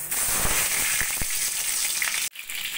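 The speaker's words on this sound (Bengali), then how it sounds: "এবার আমি পটলগুলো প্রথমে ভেজে নেব।" Pointed gourd (potol) frying in hot oil in a wok gives a steady, loud sizzle with a few sharp crackles, cutting off abruptly near the end before resuming.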